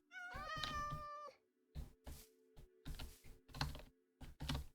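Cat meows from a Minecraft game, one drawn-out mewling call followed by a string of shorter meows spaced irregularly, clear and close with silence between.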